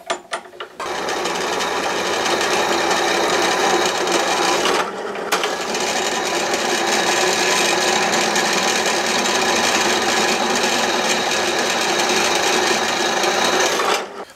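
A Parkside PTBM 500 bench drill runs with a 10 mm bit, a loud continuous motor drone with gritty cutting noise, briefly pausing midway before resuming steadily until the end.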